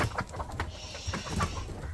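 Laying hens clucking softly in short, irregular bursts close by on an egg poultry farm, with a background of farmyard noise.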